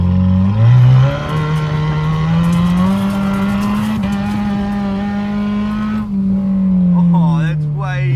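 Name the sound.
car with new exhaust pipes revving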